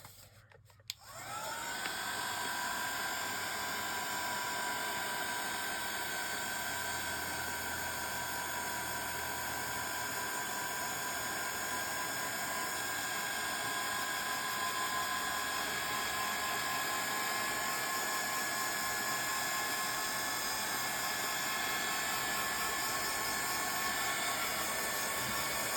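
Right after a brief click, a hair dryer switches on and blows steadily over a mixed media painting, a constant close whirring hiss with a high whine that holds at an even level for about 25 seconds.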